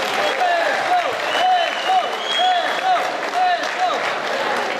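Audience applause at a Bosnian cultural centre gathering in Turku, Finland, a moderate wash of clapping from the room with a voice or tonal sounds carrying over it throughout.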